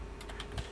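Brief, quiet computer keyboard typing: a handful of soft key clicks in quick succession as a command is entered, with no voice.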